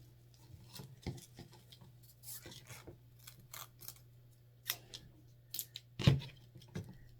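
Small Dollar Tree scissors snip through craft ribbon in a quiet room, a scattered series of dry clicks and rustling cuts, one louder snap near the end over a low background hum.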